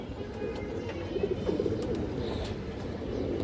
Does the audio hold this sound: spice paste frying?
no